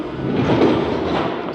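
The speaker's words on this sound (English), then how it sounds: "we'll definitely be on the next monorail." Europa-Park monorail people mover train rolling past, a steady rumbling and clattering of wheels on track, close and continuous for a brief moment.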